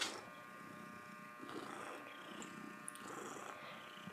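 A cat purrs in a soft, steady rumble, close and quiet, with faint background hum and a few small clicks.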